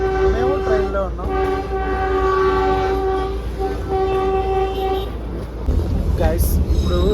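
A vintage toy train on the Darjeeling line rumbles along with a long, close horn blast and steady rail clatter, while people talk aboard.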